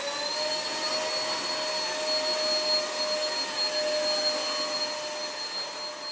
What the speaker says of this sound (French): J'aspire déjà très bien. Puissance 2. et puissance 3.